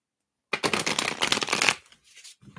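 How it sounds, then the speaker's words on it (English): Reading cards being shuffled close by in a quick riffling burst of about a second, followed by a few softer card sounds. "Let me just shuffle these."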